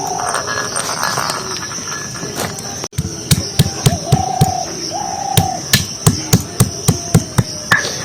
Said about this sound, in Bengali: এই জায়ফলটা গুঁড়ো করে নেবো।